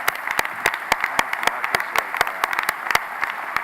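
An audience applauds at the SOAR Summit 2018 for the organiser who put the event together. Claps are sparse and distinct, with separate sharp strokes spread across the clip at moderate loudness and no talk over them.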